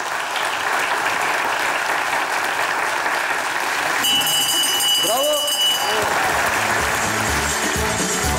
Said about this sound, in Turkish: Aferin çocuklar, alkışlıyoruz.